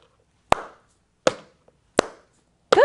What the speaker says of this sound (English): keep the beat with me by slapping your legs and clapping your hands